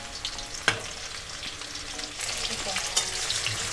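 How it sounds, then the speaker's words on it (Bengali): Chicken pakoras frying in hot oil for chilli chicken, a steady bright sizzle close to the pan with occasional stirring clicks and sharp pops, no talking. "এখানে আমার চিকেন পকোড়াগুলো সব ভাজা হয়ে গেছে"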